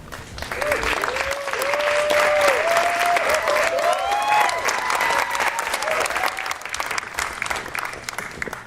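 A studio audience applauds steadily to welcome Rihanna onstage at a Super Bowl halftime preview event, the clapping swelling quickly and holding for several seconds while a voice speaks over it.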